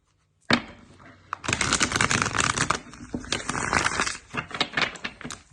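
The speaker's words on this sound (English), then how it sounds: "Get one more shuffle." A deck of cards being shuffled up close, a sudden riffle burst followed by dense crackling flutters and softer repeated riffles, loud and alone without talk.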